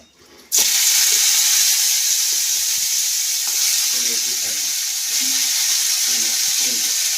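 Onion greens hitting hot oil burst into a loud, steady sizzle after a brief quiet start, with faint clinks and stirring scrapes underneath as the frying continues alone.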